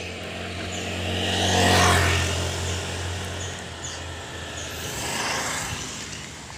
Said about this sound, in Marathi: जास्त करून गाड्याचा आवाज येईल